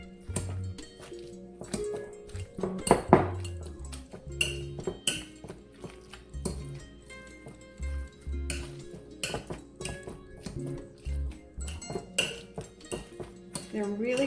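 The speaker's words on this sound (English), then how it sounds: "we're going to start to mash." Potatoes being mashed in a metal pot with butter, heard as repeated metallic clanks and taps of the masher against the pot alongside soft squishing, in an uneven, close rhythm.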